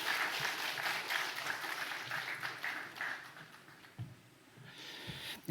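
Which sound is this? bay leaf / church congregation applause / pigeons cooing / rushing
church congregation applause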